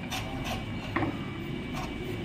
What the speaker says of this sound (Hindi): इस पर जो है ना हल्की हल्की एमरी लगा लेंगे ये